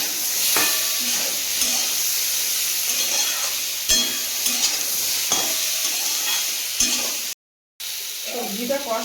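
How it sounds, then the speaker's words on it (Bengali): Vegetables with turmeric stir-frying in a pan for a fish curry, with a steady sizzle broken by repeated scraping stirs, a brief dropout near the end, then the frying resumes. "ভালো করে কষিয়ে নেবো সবজিটা"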